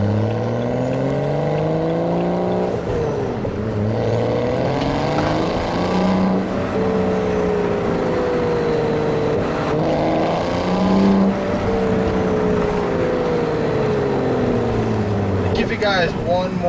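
BMW 335i N55 single-turbo E92 coupe with aftermarket exhaust pulling hard through the gears, loud rising engine drone with repeated shifts, heard from inside the car.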